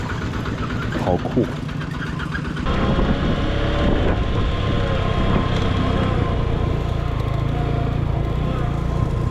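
A walk-behind hand tractor's engine chugging steadily and loudly at close range in rural Laos, a continuous rough rumble with a short spoken exclamation over it.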